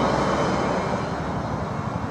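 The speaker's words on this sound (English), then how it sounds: "You can see the helicopters up there." Steady droning engine noise from helicopters overhead during wildfires in Christchurch, a constant broad roar without pauses or voices.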